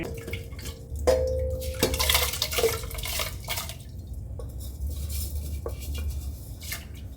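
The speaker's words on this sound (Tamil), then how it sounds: "கழுவுன அரிசி" Wet squishing and sloshing of rice being rubbed and rinsed in water, with occasional drips and light clinks, close by.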